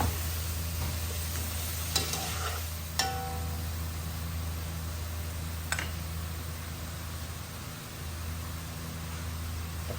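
Chicken wings are stirred as they fry in a pan for pininyahang manok. There is a steady close sizzle, and a few sharp clicks and scrapes come from the stirring.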